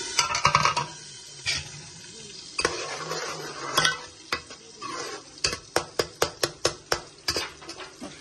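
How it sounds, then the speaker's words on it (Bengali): Onions being stirred and fried in a pan for a rohu fish curry, with a soft sizzle beneath a run of sharp, evenly spaced clinks and scrapes of a spoon against the pan, growing louder and more rhythmic toward the end. "আনিয়ন কষি গেছে"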